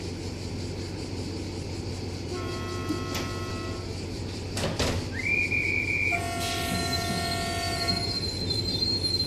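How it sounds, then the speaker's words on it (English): A cargo train rumbles past in a train simulator, with a steady low drone, clanking wagons, squealing wheels and tonal horn-like bursts, close and continuous. "There goes that cargo train."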